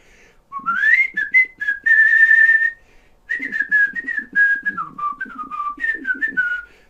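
Someone whistles a wandering, slightly odd tune up close, in two long phrases split by a short pause, with sliding and held notes and no talking.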